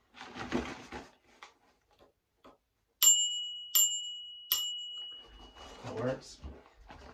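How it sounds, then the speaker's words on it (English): A Cannondale Topstone gravel bike's bell rings three clear, bright dings at an even pace, with a voice talking before and after the rings. "Bell."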